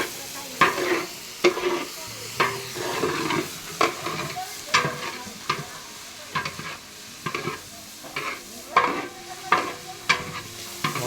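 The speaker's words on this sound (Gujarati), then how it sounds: "વઘાર હજુ એકદમ મસ્ત લાગી ગયો છે" Rhythmic stirring and scraping in a pan, with a steady sizzle of spices frying in hot oil underneath, close and fairly loud.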